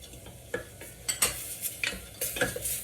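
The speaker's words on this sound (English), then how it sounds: "Now I can add my garlic, chopped" Chopped garlic fries in a pan for tomato soup while a utensil stirs and scrapes, giving a soft sizzle beneath a run of close, irregular clinks and scrapes.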